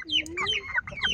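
A stag chicken clucking in a backyard, with several short, close, fairly loud squawking calls coming in quick bursts over about a second.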